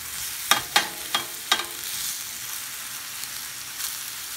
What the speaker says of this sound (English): So just keep on flipping until you see that all the shrimp has been cooked